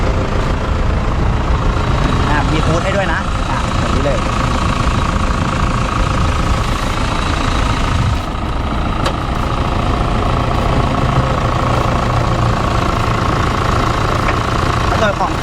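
A 3.0-litre diesel engine in a 2006 Toyota Fortuner idles close by with a steady, heavy low rumble and a faint knocking rattle, while voices murmur now and then.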